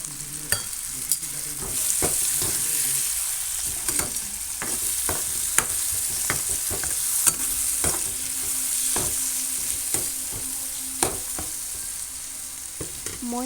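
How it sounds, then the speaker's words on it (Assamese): Spiced masala with tomatoes sizzling in a hot pan, a steady crackling fry broken by repeated scraping clicks of a spatula stirring, close and moderately loud, with no talking. "এয়া মই লগতে বিলাহীখিনিও দি ভাজি ল'ম।"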